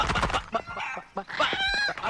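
Chickens cluck and squawk close by in short bursts, with a person's voice talking over them.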